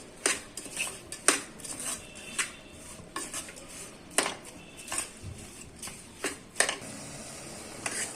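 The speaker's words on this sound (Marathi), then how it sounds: "गूळ विरगळेपर्यंत हे आपल्याला छान परतून घ्यायचं आहे" Chana dal and jaggery stirred in a pan for puran poli, irregular metallic clinks and scrapes of a spoon against the pan, close and fairly quiet, with little sizzle beneath.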